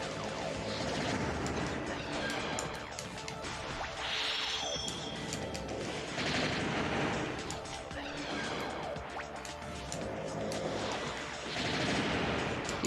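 Gunfire from a sniper gun during a Custom Robo battle on GameCube, with shots and explosive impacts cracking repeatedly over a dense, continuous wash of game action and music.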